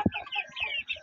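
Two-month-old chickens cluck softly in short bursts, a few quiet calls close by after a brief thump at the start.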